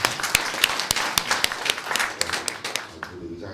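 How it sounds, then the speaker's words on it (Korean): A small audience at a Korean community gathering claps briefly at a council chair's invitation, a loose patter of scattered hand claps under ongoing talk. "우리 박수 한번 보내주세요"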